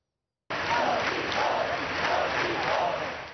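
A crowd in Barcelona's Plaça de Catalunya roars and chants "no tinc por" together, a dense, loud wash of massed voices with rhythmic swells repeating roughly every half second to second.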